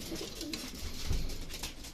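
Low, soft cooing from a racing pigeon, a brief murmuring call rising over steady background hiss and faint outdoor noise.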